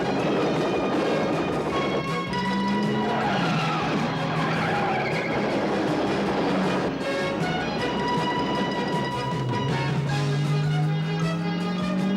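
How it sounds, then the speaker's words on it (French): Tires squeal and skid loudly as a car pulls away, the sustained screech and rising engine roar carrying for several seconds without speech. "Ouais, je prends la bagnole."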